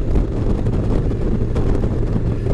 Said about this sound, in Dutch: Het waait heel behoorlijk helaas.